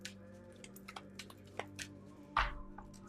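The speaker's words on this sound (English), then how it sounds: "Let's give these a shuffle." A deck of cards is shuffled close up and quietly, a series of soft irregular ticks and flicks ending in a brief fuller riffle burst near the end, with no talking.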